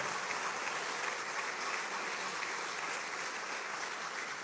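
A graduation ceremony audience at Faculdade Vitoria em Cristo applauds in a continuous, even wash of clapping, faint and distant, with no pauses throughout.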